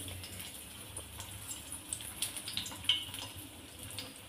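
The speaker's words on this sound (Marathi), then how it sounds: "आता आपलं तेल गरम झाले, त्यात आपल्याला हे एक एक करून सोडायचे" Methi (fenugreek) cutlets coated in rava frying in hot oil, a soft steady sizzle and bubbling with faint crackles, quiet and continuous with no talk.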